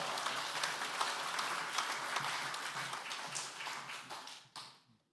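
Church congregation applauding to welcome a pastor, steady dense clapping at moderate distance that tapers off and stops near the end.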